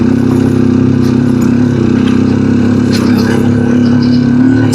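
A Hero XPulse 200 motorcycle engine labours steadily uphill in second gear, a loud continuous drone heard close up with wind rumble and no letup.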